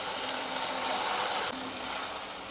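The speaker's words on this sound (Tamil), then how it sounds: "அந்த பேஸ்ட்டை ஊற்றிக்கலாங்க." Tomato, cashew and garlic paste being poured into a hot frying pan for paneer masala gives a steady, loud broadband sizzle that drops abruptly partway through, then continues more softly.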